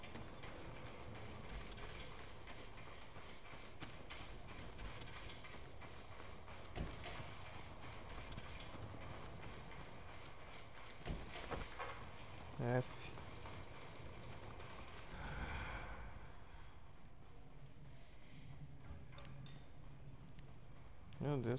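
Horse hooves clip-clopping through snow in Ghost of Tsushima, a steady galloping patter under constant game wind and music, with someone talking over it at times.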